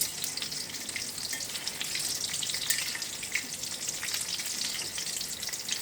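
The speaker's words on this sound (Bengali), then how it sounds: "সেম ওই প্রসেসে এটা এভাবে ভাজা যায়" Kakrol (spiny gourd) fries in hot oil, giving an even, crackling sizzle with scattered bright pops that continues steadily throughout, close and moderately loud with no voices.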